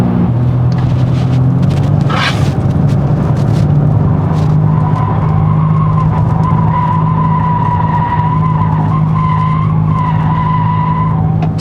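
A 2024 Kia K5 1.6 turbo gasoline car accelerates hard with its virtual engine sound set to strong, a loud steady synthetic engine tone rising in pitch alongside tire and road noise.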